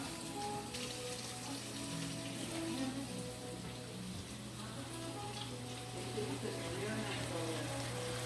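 Tap water runs steadily over mushrooms being rinsed in a kitchen, a continuous close hiss and spatter lasting throughout.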